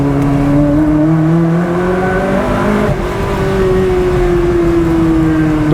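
Ferrari 360 Modena Spider engine and exhaust pulling hard, loud and close, with the pitch climbing and a brief dip at a gear change before it rises again, with no speech over it.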